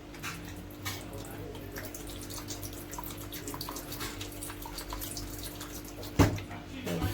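Tap water runs steadily into a sink while meat is washed for a Jamaican Sunday dinner, with faint splashing and a brief clatter near the end, under a voice.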